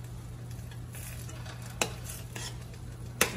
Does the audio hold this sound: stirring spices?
yes